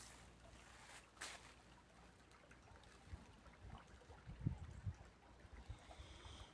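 A small stream of leftover runoff water in San Martín de la Palma trickles and gurgles faintly, with soft splashes and low bubbling swells partway through and no talking.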